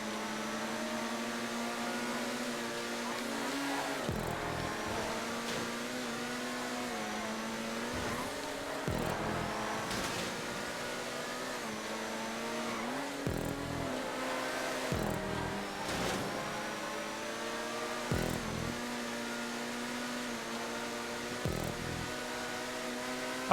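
Racing car engine in a GTA 5 race held at full throttle, a sustained buzzing drone with repeated brief dips and rises as gears shift or corners pass, steady and moderately loud without voices.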